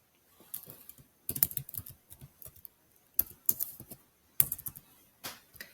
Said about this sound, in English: I can come here and type in my answer.